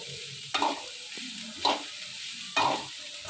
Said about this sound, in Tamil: நல்லா இதையும் பொன்னிறமாக வர வரைக்கும் வதக்கிட்டே இருக்கணும்